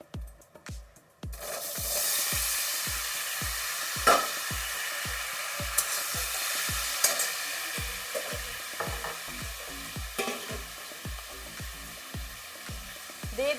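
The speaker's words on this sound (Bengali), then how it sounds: "একটু ভেজে নেব।" Bakanaj vegetable, already boiled, fries in hot oil in a pan for a Bengali fish and mixed vegetable curry, giving a steady sizzle broken by a regular series of spatula scrapes and taps, close and without talk.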